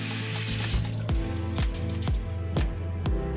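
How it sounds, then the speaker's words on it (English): Raw beef is washed with cold tap water in a kitchen sink. A gush of running water opens the clip, followed by a steady series of rhythmic sloshing splashes roughly every half second as the meat is rinsed. "we're gonna wash it with cold water"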